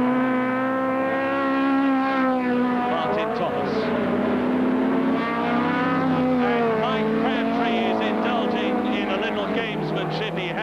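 Saloon racing cars from a 1971 British championship race at Crystal Palace drone loudly past with sustained engine whine, while a commentator talks continuously over them.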